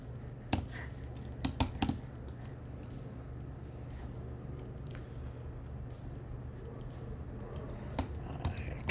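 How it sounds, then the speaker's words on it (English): Scattered keystrokes on a computer keyboard during software setup work, faint sharp clicks arriving singly and in small clusters over a steady low background hum, with no speech. "I keep hitting the wrong bloody buttons on my keyboard"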